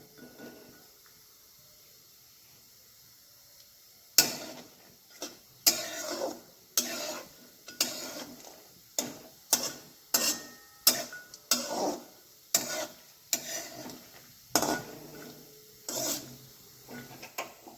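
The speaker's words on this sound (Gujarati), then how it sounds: "કાજુ અને બદામના ટુકડા ધીમે ધીમે સાંતળવાના" Cashew and almond pieces being slowly sautéed in a pan for bottle gourd kheer, heard as a quiet sizzle and then a long series of rhythmic scraping stirs, each one a short rasping stroke, close up with no talk.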